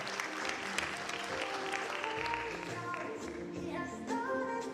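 The audience at an international relations career and mentorship forum applauds a named participant with sustained, moderately loud clapping from many hands, with some faint voices and tonal sounds underneath.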